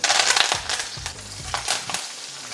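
Urad dal, curry leaves and chillies hit hot oil with cumin and asafoetida while a vegetable upma is being made. The oil gives off sharp crackling and spluttering pops up close, in a few uneven bursts.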